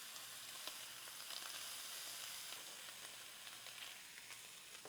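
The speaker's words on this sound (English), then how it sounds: "All you have to do is saute them like about 2 to 3 minutes" Ham sizzling and frying steadily in a pan for a quiche, a continuous close hiss with small pops and faint stirring, no voices.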